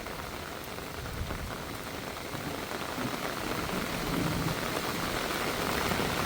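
Steady rain falls on surfaces at a home in Thailand, a dense continuous hiss that swells slightly louder toward the end, with no voices.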